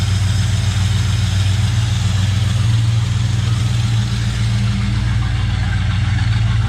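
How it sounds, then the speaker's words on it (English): A 1972 Sport Custom's motorcycle engine idles steadily nearby through dual exhausts, a constant low exhaust rumble with an even, unchanging throb. "The dual exhaust sounding pretty good back here."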